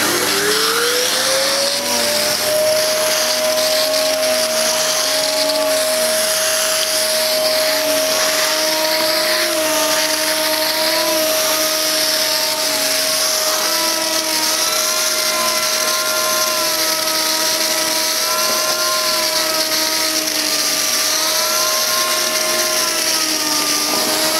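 A Hoover Purepower 2100 watt upright vacuum cleaner starts up and runs steadily, a loud, sustained motor whine with a strong constant tone holding throughout, no voices.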